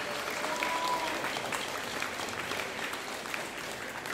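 Students clapping for parent chaperones at an 8th grade fall school concert, a sustained wash of many hands applauding at a moderate, even level for several seconds in a hall.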